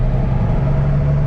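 A Case IH Magnum 7120 four-wheel drive tractor on duals runs with a steady, loud low-pitched engine drone, close and unchanging, with no voices over it.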